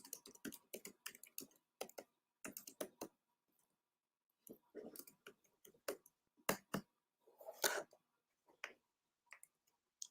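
Several people typing fast on computer keyboards during a timed writing sprint, a dense rattle of clicks that pauses and restarts in bursts, close and fairly quiet with no talking.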